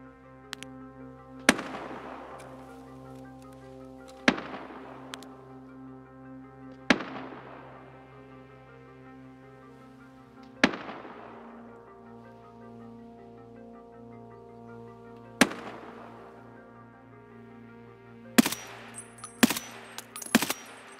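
Gunfire in the game Escape from Tarkov: six or seven sharp distant shots spaced a few seconds apart over a steady ambient bed, with a quick cluster of three near the end.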